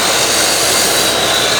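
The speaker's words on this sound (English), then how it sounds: "get the lathe going, reasonable speed, sort of 2000 RPM." A woodturning lathe running at around 2000 RPM, a constant loud whirring hum with a steady high whine, unbroken across the short stretch.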